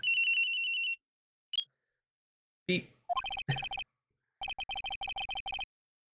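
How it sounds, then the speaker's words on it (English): A Nokia cell phone rings in a Phoenix Wright: Trials and Tribulations game scene: a bright electronic tone opens it, then a short blip and several quick noisy bursts, then a rapid series of ringing pulses, all clean with no voices. "At around 10:30 I received a call on my cell phone."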